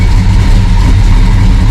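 A Mopar car engine idles steadily after an alternator upgrade, a loud, constant low rumble with no revving and no voices.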